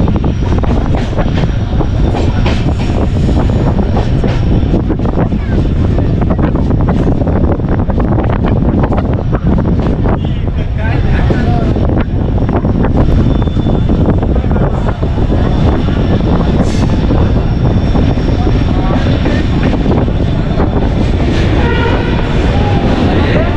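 The Mandovi Express rolls along with a loud, continuous rumble and roar of wheels and wind, heard close from inside a crowded train, with steady rattling and no pauses for the whole stretch.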